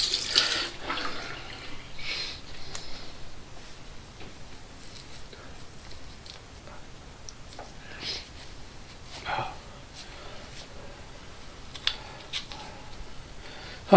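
Cold water running from a tap into a sink while someone rinses after a razor shave, intermittent splashing and sniffing over a soft constant flow, fairly quiet and close.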